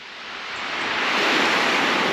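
Surf on the beach at Seaton Front on a clear day, a steady broadband wash that swells gradually louder over a couple of seconds as a wave rolls in, with no voices.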